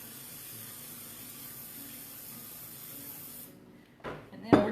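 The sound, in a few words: olive oil sprayed into non-stick skillet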